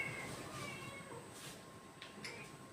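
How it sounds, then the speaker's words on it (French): A small cat meows softly a few times indoors, quiet and fairly close, with a faint steady hum in the background and no speech. "j'ai un petit chat qui veut un câlin"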